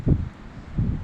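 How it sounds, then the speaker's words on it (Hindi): Strong gusting wind during a village storm buffets the microphone in two low, heavy rumbling bursts close up, with a quieter whooshing lull between them. "देखो दी कितना तेज हवा हुई पे,"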